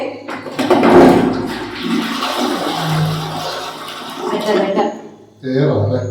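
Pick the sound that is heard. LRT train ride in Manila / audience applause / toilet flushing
toilet flushing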